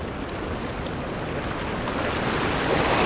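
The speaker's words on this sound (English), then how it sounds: "the water's coming in" Atlantic Ocean waves roll in on Portugal's rocky west coast, a broad, steady wash of surf mixed with wind that swells slightly louder toward the end, with no talking.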